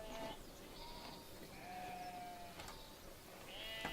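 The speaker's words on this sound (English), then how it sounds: "Happy sheep." Sheep in a Farming Simulator 17 farm give a few faint, wavering bleats over a steady outdoor ambience, distant and soft.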